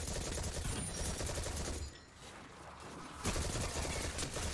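Rapid gunfire from Destiny 2, a dense run of shots that drops out for about a second and then comes back just as loud, with no talking over it.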